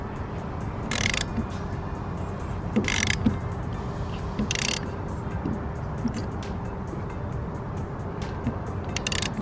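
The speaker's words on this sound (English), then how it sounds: "I just need to go back to my 13mm socket" A ratchet with a 13mm socket tightens a wiper bolt on a Ford Focus RS during a carbon fibre wiper install. A few short, sharp bursts of clicking ring out over a steady background hum.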